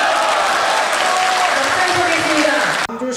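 Mostly elderly audience at a public hearing event inside the National Assembly bursts into sustained applause and cheering, a dense, loud crowd roar with shouts rising above it before it cuts off abruptly.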